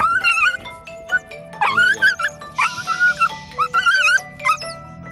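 A dog with mange, treated until its fur grows back, gives a run of high whimpering yips and whines in short bursts, close and fairly loud, with no talking.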